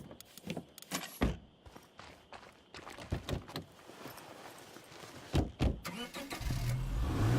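A car in State of Decay 2 drives up and pulls into a parking spot, with engine bursts, door-like thumps and shuffling clatter in quick uneven hits, ending in a steadier engine rumble.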